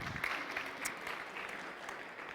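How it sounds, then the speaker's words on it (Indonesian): A church congregation gives a round of applause, faint and somewhat distant, a steady patter of many hands clapping for a couple of seconds. "kasih tepuk tangan saudara-saudara."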